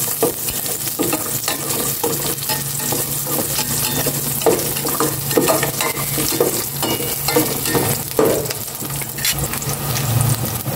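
Onion and garlic frying in a pan for a pineapple chicken dish, a dense continuous sizzle with stirring scrapes and clinks throughout, close and loud with no voices.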